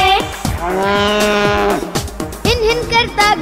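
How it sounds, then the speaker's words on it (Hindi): A cow lowing within a sung Hindi children's nursery rhyme, a drawn-out moo over bouncy music, loud and close, with singing around it. "गाय भैंस रंभाती है।"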